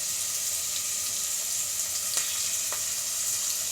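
Chicken wings frying in a pan for ginataang chicken wings, giving a steady, dense sizzle of hot oil that holds evenly throughout, with a couple of brief sharp pops near the end.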